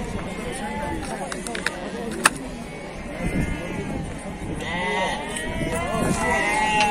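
Lambs bleat at a busy open-air sheep and lamb market in Beylagan, their calls rising over constant crowd chatter and people talking nearby, with a sharp knock partway through.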